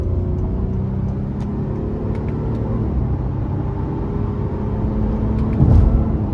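A 2023 Honda Pilot EX-L with its 3.5-litre V6 pulls under throttle, a steady low engine drone that swells near the end with a brief surge in revs, heard from the cabin without talk.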